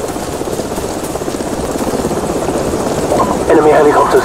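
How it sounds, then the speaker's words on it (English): Enemy helicopters in Call of Duty 4, a loud continuous rotor drone that grows stronger toward the end, mixed with game voices talking over it. "Enemy helicopters."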